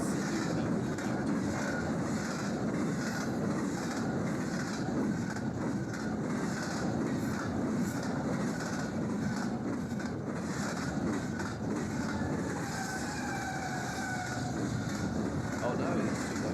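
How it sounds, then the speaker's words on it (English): A very long intermodal freight train led by seven locomotives rolls past, a steady broadband rumble and rush of wheels and cars that holds loud and unbroken throughout, with faint tonal whines rising near the end. "7 locomotive, ultra-long intermodal train in the sunset"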